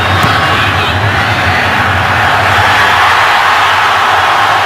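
A packed football stadium crowd at a Packers home game against the Titans roars loudly and continuously during a field goal attempt, a dense wall of noise with no pauses.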